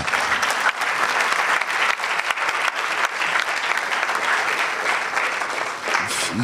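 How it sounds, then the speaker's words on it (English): Audience clapping for a sponsor at a Ghanaian quiz competition event, a thick, continuous burst of many hands at steady volume throughout. "this is how you clap for a sponsor"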